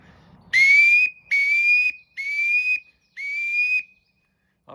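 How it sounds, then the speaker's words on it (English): Four clear, loud whistle blasts from a Leaning Tree wood duck whistle, each note sliding upward from low to high pitch in a steady rhythm, with short pauses between and no talking. "I've called in many a wood duck with a flying wood duck whistle"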